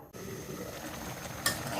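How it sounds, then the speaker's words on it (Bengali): A spoon scrapes and stirs through brinjal and fish curry in a pan over a soft sizzle, with a small clink of metal near the end. "বেগুন ভুনাটাকে আমি একটু নাড়াচাড়া দিয়ে নিচ্ছি"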